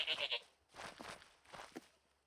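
Several sheep bleats in the Minecraft video game, a quick nasal cluster up front followed by two longer, fuller bleats, close and clear with no talking.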